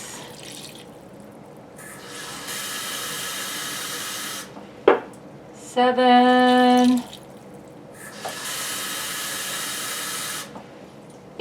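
Tap water pours in bursts into a cooking pot for a Japanese curry, each fill a steady rushing hiss, with a short clank and a rising tone as the pot fills between pours, and a voice counts briefly.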